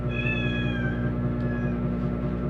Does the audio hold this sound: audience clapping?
no